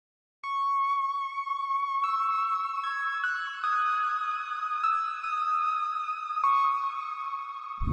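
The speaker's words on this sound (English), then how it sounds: "Add a simple lead sound like this to support the chords." A simple synth lead in an FL Studio future bass arrangement, playing a clean, bright melody of sustained notes that step between pitches. The line is steady and alone, with no other sounds.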